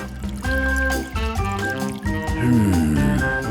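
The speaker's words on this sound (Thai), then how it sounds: "เริ่มแรกต้องเทน้ำมันลงไปบนกระทะ" Cooking oil pours into a frying pan in a home kitchen, a steady liquid sound under music-like tonal bands that runs unbroken for about three seconds.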